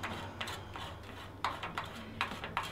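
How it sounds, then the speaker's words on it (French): A piezo igniter battery being fitted into a Simogas plancha, a handful of small plastic clicks and ratcheting snaps, close and quiet, spaced irregularly with a faint hum beneath. "nous allons mettre la pile du piezo"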